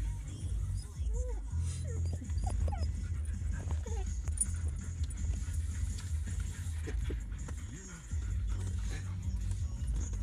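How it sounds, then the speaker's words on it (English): Dogs whimper, yip and pant close by at a dog park, with scattered short whines and some background voices mixed in. "We're at the doggy park."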